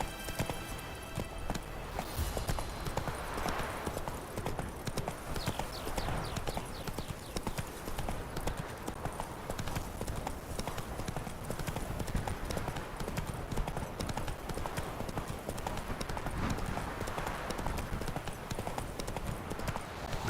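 Roach the horse gallops in The Witcher 3, with quick, steady hoofbeats running nonstop under game sound and occasional voices.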